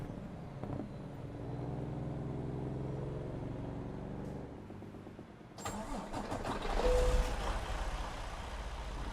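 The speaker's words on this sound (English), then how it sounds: "Truck has a good sound to it." Freightliner Cascadia truck engine in a truck driving game, a steady low engine drone that shifts partway through, then a brighter, louder rumble as the engine revs up, with no talk.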